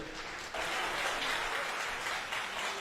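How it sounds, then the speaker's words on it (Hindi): Audience at a talk on managing diabetes naturally breaks into dense, steady applause that swells after a brief start and holds for a few seconds, moderately distant. "तो एक ताली मेरे लिए भी बनता है"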